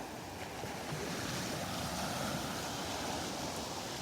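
Ocean waves wash steadily onto a beach in North Naples, Florida, a continuous broadband rush of surf with wind buffeting the microphone throughout, with no voices.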